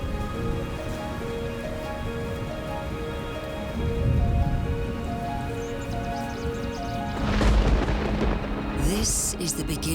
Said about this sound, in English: This is the beginning of the summer rains.